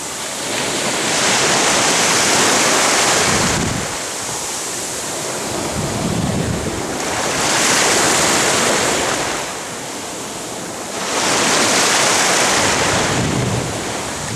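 Surf at Cleopatra Beach in winter, recorded from a spot standing in the water. Loud waves crash and wash in three broad surges, each swelling into a roaring hiss and then receding, with gusty wind noise throughout.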